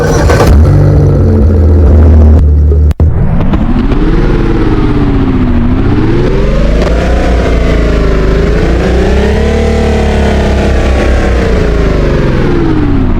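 A car engine in the Driving Empire video game starts with a brief crank, then idles and revs, rising and falling in pitch, loud and close throughout.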